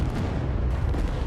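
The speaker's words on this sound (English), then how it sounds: "The explosion created a blast wave that swept across Danvers port" A vapor explosion at the Danvers production plant gives a deep, loud, continuous rumbling blast with dense noise throughout the short stretch, alone with no voices.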